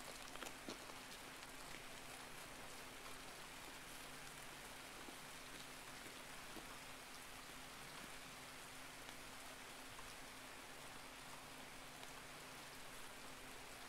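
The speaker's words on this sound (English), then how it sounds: "I hate this rain." Rain falls steadily in the Escape From Tarkov video game, a soft, even hiss of drops that patters continuously throughout with a faint low hum beneath and no talking.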